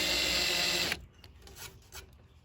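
Power drill boring a hole through a plastic or fiberglass hood on a 1960s Ford, fitted for a hood scoop emblem: a loud steady whine for about a second, then it stops and only faint light handling noises are left.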